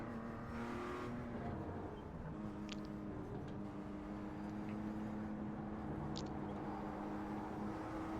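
A BMW M2 CSR race car runs laps at Mid-Ohio in the iRacing simulator, its engine a steady, fairly faint drone with mild pitch shifts and no talk over it.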